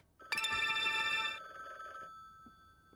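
A phone rings loudly in a video game with a bright electronic tone, one long burst that then drops to a softer sustained note before fading out. No one speaks.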